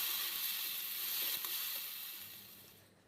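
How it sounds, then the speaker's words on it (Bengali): Okra frying in oil in a pan, a close, steady hissing sizzle that fades slightly toward the end, with no voices. "এখন এই তেলের মধ্যে ভেন্ডিগুলো দিয়ে একটু ভালো করে ভেজে নিচ্ছি।"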